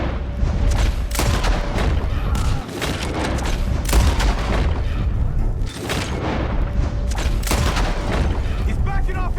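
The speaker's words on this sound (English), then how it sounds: "The gunshots are coming from that barn!" Rapid bursts of gunfire and heavy booms crack repeatedly, loud and close, with shouting voices mixed among the shots, from the video game Red Dead Redemption 2, with shots coming from a barn.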